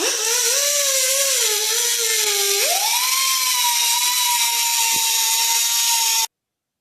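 A power tool cuts the head off a 1/4 inch by 20 steel bolt in a loud, continuous whining grind whose pitch dips and climbs as the blade bites, then stops abruptly.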